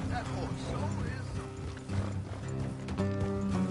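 Horses in Red Dead Redemption 2 snort and shuffle near the listener, their close sounds mixed into game music and ambience with no talk.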